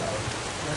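Steady rain falls outdoors at a mosque groundbreaking ceremony, a dense continuous hiss of drops on surfaces filling the whole moment.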